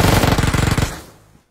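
Rapid automatic gunfire in a squad shooter video game, a fast loud burst of about a dozen shots up close that cuts off and fades into a short echoing tail, with no talking.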